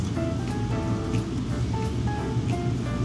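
A pot of water boiling over on a stove in an RV kitchen, with sausage and noodles cooking, gives a steady close hiss of bubbling and spattering with no pauses, heard alone.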